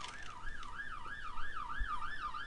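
A police car siren wails outside a house, its rising and falling tone repeating in a steady cycle, heard from a short distance and fairly faint.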